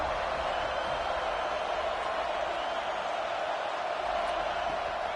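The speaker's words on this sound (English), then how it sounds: "this defense feeling energy from the crowd." Stadium crowd in the NCAA 26 college football video game, Michigan vs Florida State, a steady, dense roar of massed voices holding at even loudness throughout with no distinct cheers or breaks.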